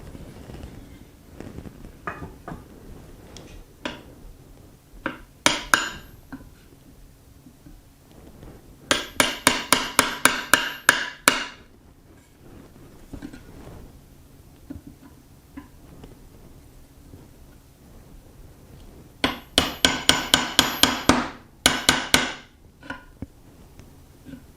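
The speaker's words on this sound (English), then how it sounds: "I'll take a chisel and very lightly tap down into this" A steel chisel lightly tapped with a hammer into the metal of an Ishapore 2A1 rifle during restoration, heard as two quick bursts of about eight sharp metallic taps each, near and loud, with scattered single knocks between them.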